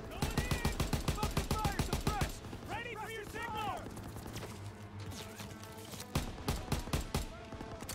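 Rapid machine gun fire from a German MG pillbox in the World War II video game Call of Duty WWII, a loud steady rattle that breaks off under shouted voices and then starts again near the end.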